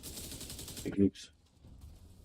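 Gunfire in the shooter game The Division 2, a rapid rattling burst of shots followed by one loud, sharp bang, then quieter game ambience with faint sounds in the background.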